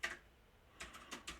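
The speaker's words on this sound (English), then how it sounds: "make lots of clicky noises on your keyboard" Typing on a Logitech clicky mechanical keyboard, a few sharp, quiet keystroke clicks in an irregular rhythm after a short pause, close by with no talking.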